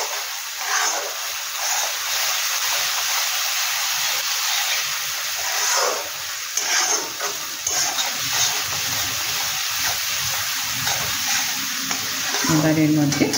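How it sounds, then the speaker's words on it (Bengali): Green chillies and spices fry in a hot pan with a loud, continuous sizzling hiss, occasional stirring scrapes and crackles rising over the steady steam. "এইগুলো দিয়ে 2 মিনিট একটু ভেজে নিয়ে এবার একটু ফ্লেমটা বাড়িয়ে নেব।"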